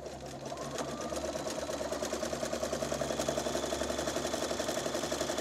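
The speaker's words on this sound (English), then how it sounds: "Next, I'm going to begin stitching." A sewing machine with a gold titanium needle runs a satin stitch over cording or braid, a steady, rapid mechanical whir and ticking that swells slightly and continues unbroken, close and alone.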